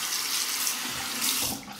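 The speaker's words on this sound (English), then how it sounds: "Cold water, rinse the face." Cold tap water running steadily into a sink for rinsing the face after a shave with a Merkur 47C razor; a close, continuous splashing stream that tapers off at the end.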